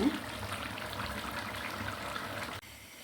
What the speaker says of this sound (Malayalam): ഇച്ചിരി വെള്ളം തിളപ്പിച്ച് ഇതിലേക്ക് ഒഴിക്കും